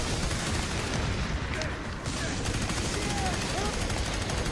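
Dense gunfire from the FEAR 3 shooter game crackles continuously, loud and busy throughout, with steady rapid shots and a brief lull in the middle, layered over game effects.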